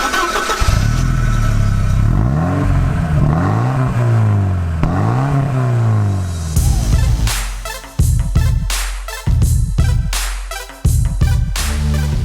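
A 1987 Porsche 944 Turbo revs repeatedly at a track start line, rising and falling several times, then switches to sharp, choppy bursts of engine noise, loud and close, no talk.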